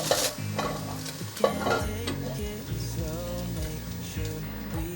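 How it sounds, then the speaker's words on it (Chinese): Eggs get broken up and stir-fried in a little warm oil in a wok, with a steady close sizzle and scraping spatula strokes and no voices. "锅内放入适量的油，油微热，放入鸡蛋，把鸡蛋炒碎"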